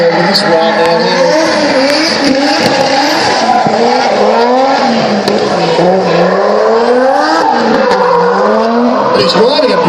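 A drift car at an Archerfield drift event revs loudly in fourth gear while its tires squeal continuously, engine pitch rising and falling through the slide, with a commentator talking over it.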